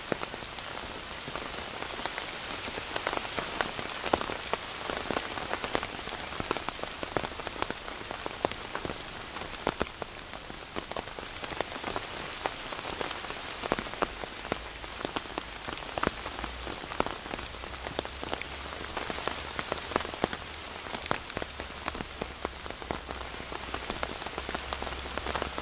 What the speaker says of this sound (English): Really raining hard now.